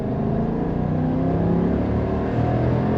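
A 2022 Chevy Silverado ZR2 pickup with a naturally aspirated 6.2L V8 accelerates hard, its engine roaring loud and close in a steady, sustained rising drone from start to finish, without talk.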